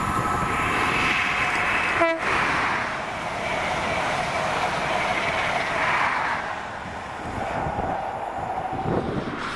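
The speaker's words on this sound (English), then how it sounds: "Another highlight was the cross-country class 43s" A CrossCountry class 43 high-speed train, the 2045 Plymouth to Edinburgh service with power cars 43366 and 43303, passes close by in Scotland, a heavy continuous rumble broken by a short, sharp horn blast near the start.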